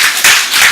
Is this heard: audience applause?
yes